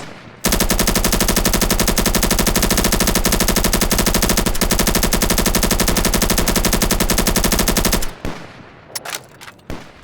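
Sustained rapid automatic gunfire rattles loud and continuous for about seven and a half seconds in a first-person shooter game, then breaks off into a few scattered shots.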